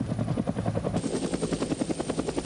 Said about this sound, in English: The Sea Cobra is a Marine variant of the AH-1 Cobra